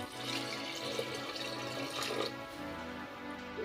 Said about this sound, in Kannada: 5 ಗ್ಲಾಸ್ ನೀರು ಹಾಕ್ಕೋತೀನಿ ರೀ.